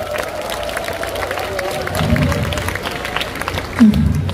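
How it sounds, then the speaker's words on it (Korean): Festival crowd applauding after a fusion gugak trot performance outdoors, a loud blended wash of clapping and crowd noise, with a low sustained tone running beneath it and a brief bump near the end. "멋진 무대를 완성시켜준 우리 춘향이에게 다시 한번 큰 박수 부탁드리겠습니다."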